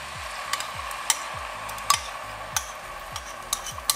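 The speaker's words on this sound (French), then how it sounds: "Donc mon huile d'olive doit être certainement chaude. Je vais mettre ma purée qu'on a précédemment préparée avec les oignons," Vegetable purée of onion, pepper, garlic and chili frying in hot olive oil, a steady sizzling hiss broken by repeated light clicks and scrapes of a spoon against the pot.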